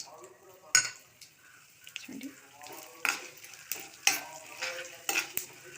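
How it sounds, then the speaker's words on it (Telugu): Tempering spices sizzle in hot oil in a kitchen pan while a spoon stirs and scrapes, giving irregular clinks and taps over a soft fry, with a few spoken words. "ఇప్పుడు కొంచెం నూనె వేసి ఇందులో పోపు వేస్తున్నాను."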